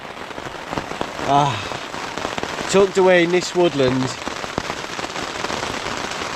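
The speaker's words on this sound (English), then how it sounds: "with the sound of the rain on the tent while I'm perfectly dry" Rain patters steadily on a tent pitched in North Yorkshire woodland, a constant hiss throughout with someone talking over it.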